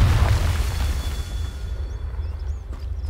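A Confringo blasting spell explodes in Hogwarts Legacy, a loud booming burst at the start that rumbles and fades over a few seconds, followed by faint chirpy effects.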